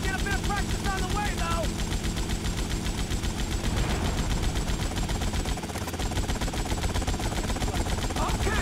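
Rapid machine-gun fire from a helicopter in GTA Vice City, a dense steady rattle of shots over engine and rotor drone that runs almost the whole way through, loud and close.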